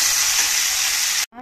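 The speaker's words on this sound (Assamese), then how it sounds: "ফুলকবিখিনি ফ্ৰাই কৰি আছো অলপমান নিমখ হালধি দিছো" Cauliflower pieces sizzle and crackle steadily in hot oil seasoned with salt and turmeric, a loud continuous frying hiss that cuts off abruptly near the end.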